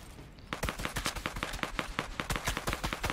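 Rapid automatic gunfire in a video game, a steady stream of sharp shots at roughly six per second, loud and close, continuing for about three seconds after a brief quiet start.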